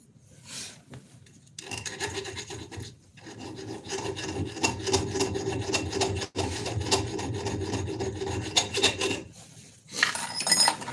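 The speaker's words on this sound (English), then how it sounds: "And get those out with a file. This chainsaw file like this." A round chainsaw file rasps across a freshly forged axe clamped in a vise, with bursts of steady back-and-forth filing strokes separated by short pauses, close and alone.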